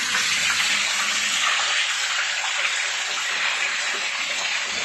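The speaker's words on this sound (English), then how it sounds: "now I have a bucket filled with chips, and I'm gonna turn on the coolant" Coolant pours onto a bucket of metal chips on a DIY CNC chip conveyor, a steady, fairly loud hissing gush of flowing liquid running without pause and with no talking.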